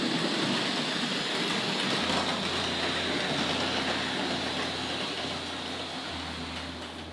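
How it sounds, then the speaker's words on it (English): A Tri-ang model train rolls along its track at a model railway collectors' show, giving a steady rushing, rattling hum with a low motor drone that shifts as it runs, close and continuous with no talking. "So we'll just get another triang train to come around there."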